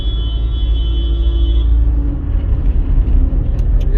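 Road traffic on a highway with trucks and cars, a steady loud low rumble of engines and tires throughout, with a faint whine fading in the first half.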